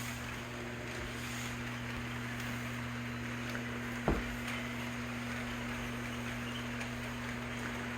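An HO scale Proto 2000 model locomotive pulls a train with a steady electric motor hum over a soft running hiss, broken by one sharp click midway through.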